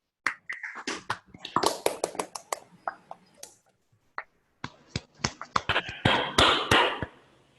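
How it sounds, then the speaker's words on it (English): Scattered claps from an online audience after a math lecture come through separate microphones as sharp, irregular taps and snaps from several people, overlapping and uneven, with a short lull before a denser burst. "So maybe we can unmute our microphone and clap"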